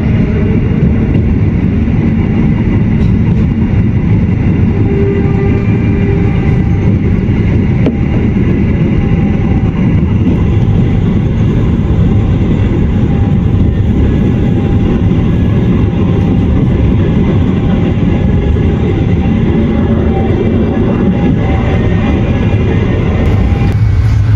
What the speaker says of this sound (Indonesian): Kereta api Jayabaya memasuki stasiun Karawang, pemberhentian berikutnya setelah stasiun Bekasi.